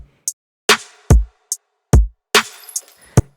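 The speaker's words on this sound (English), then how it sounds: "The drums by themselves, they sound like this." A basic electronic drum beat for bass music at 145 BPM plays alone, a clean pattern of a kick, two snares and hi-hat hits with short gaps between them.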